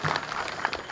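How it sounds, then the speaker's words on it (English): Crowd applause at a Renaissance faire show after a birds of prey demonstration, a brief, dense burst of clapping from the audience with no voices over it. "Give them a big giant round of applause."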